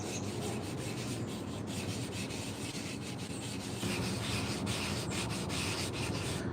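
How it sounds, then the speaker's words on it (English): Sandpaper rubs steadily against a carved wooden scoop, a close, continuous scratchy rasp with quick repeated back-and-forth strokes and no talking. "I've still got a lot of sanding and doing it"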